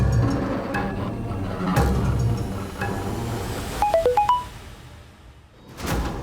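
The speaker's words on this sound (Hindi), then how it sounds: "किसका मोबाइल बजा?" A mobile phone rings indoors with a short run of rising electronic tones, heard over low room noise in a tense crime drama scene.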